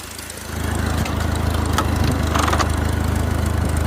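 A 1960 Ford 641 Workmaster tractor engine runs steadily close by, a loud, even, rhythmic chugging drone that picks up slightly about half a second in, with no talking.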